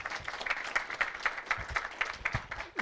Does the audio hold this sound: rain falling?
no